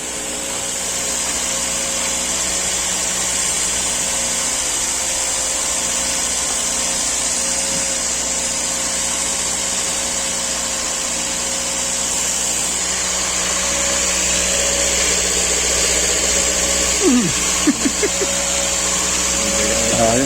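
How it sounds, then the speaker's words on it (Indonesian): The new engine of a Nissan Livina Xpander runs smoothly at idle, a loud, steady mechanical hum with a constant even tone and a few faint clicks, no talk heard over it. "Mesin sangat halus karena memang masih baru."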